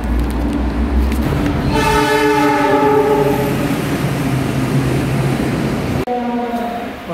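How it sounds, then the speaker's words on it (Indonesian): A train passes through Pekalongan railway station, its horn sounding in long sustained blasts over a loud continuous rumble of wheels and carriages, with a brief second horn call near the end. "Sekarang saya sedang berada di stasiun Pekalongan setelah acara selesai. Kemudian saya akan pulang menggunakan kereta api ya."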